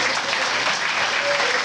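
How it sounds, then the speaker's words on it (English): Applause fills a soccer team banquet hall, a dense, steady wash of many hands clapping at even loudness from start to finish with no voices standing out. "Jared's really clapping"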